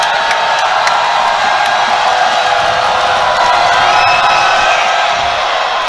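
A loud college basketball crowd at a Yeshiva University Macs versus Purchase game, roaring, whooping and yelling continuously to rattle a free throw shooter, with a dense wall of voices and a few sharp shouts.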